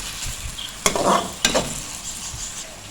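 Onions fry in a pan, a steady close sizzle broken by two scraping stirs of a spoon through them, with no talking.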